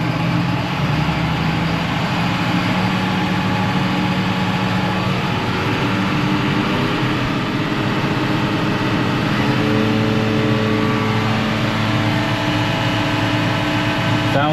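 A lawn mower engine idles steadily and loud throughout, with a constant low droning hum and rising revs, close by with no talk.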